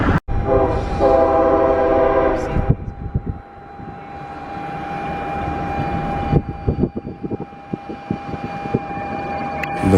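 A train passes a road crossing in Tennessee, its horn blaring in loud sustained chords at the start, followed by the rumble and rhythmic clatter of rail cars rolling by close up.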